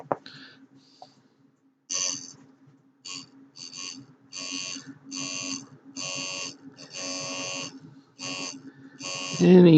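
Vibrator power supply of an AWA Cruiser 6V valve car radio buzzing in repeated bursts of a second or so, with short gaps between them, close and moderately loud over a low steady hum.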